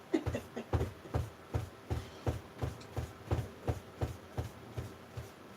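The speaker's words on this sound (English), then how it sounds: "Sorry about that noise, it's just my cupboard going back and forth." A repeated knocking and rattling, like a cupboard door shifting back and forth, about two bumps per second in a steady rhythm, fairly close.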